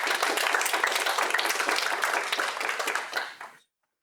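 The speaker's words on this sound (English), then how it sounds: "So please give them a round of applause as they come up today." An audience at a student members' meeting applauds with dense, lively clapping that holds steady, then tapers off and stops.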